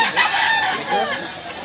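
Rooster crowing at a Cebu poultry market, a single short, close crow with a wavering, strained call, fairly loud, with faint background voices.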